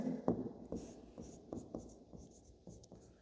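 Pen or chalk writing by hand during a class 10 maths lesson, with quiet rhythmic scratching strokes and short taps close by, and no talking.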